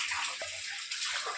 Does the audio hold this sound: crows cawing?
no